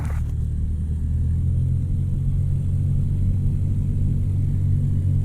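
A light aircraft's engine drones in a steady, loud, low rumble as power is bumped up to begin taxiing, continuous throughout with no talking over it.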